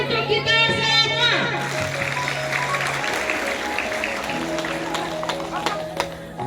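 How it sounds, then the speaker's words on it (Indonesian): A class of children claps together, a busy patter of many small hands that starts up after a sustained musical tone and continues under a background tune, with some voices in the mix. "Tepuk tangan untuk kita semua."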